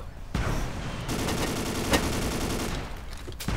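Sustained automatic gunfire rattles loud and dense in the blocky shooter game Ace of Spades, with a louder shot near the middle. A brief lull comes before a final burst.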